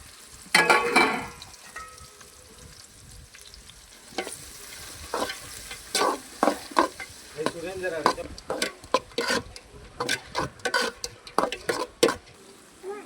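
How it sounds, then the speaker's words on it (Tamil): Onions fry in hot oil with dried red chillies in a pan for a Tamil mutton dish, giving a low sizzle under repeated scraping and clinking stirs from a utensil against the pan. "இப்போ வெங்காயம் நல்லா வதங்கணும்"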